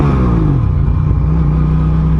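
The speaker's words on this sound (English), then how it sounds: "That is the sound that comes from the crossplane inline twin 659cc liquid cooled engine producing around 100 horsepower" Loud, close engine note from a 2021 Aprilia RS660 sportsbike with a 659cc liquid-cooled crossplane inline twin, a steady mid-pitched roar whose pitch dips and then holds as the engine revs hard, with no talk.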